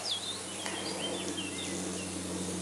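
Bees buzzing nearby in a home garden, a continuous hum that stays steady throughout, with faint bird chirps drifting in from the background.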